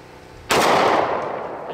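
A single loud, close gunshot from a 1911 .45 caliber pistol, a sharp crack followed by a long reverberating boom that slowly decays.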